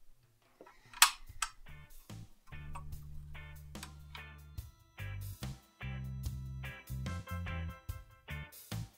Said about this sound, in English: I just will shuffle it now and fast forward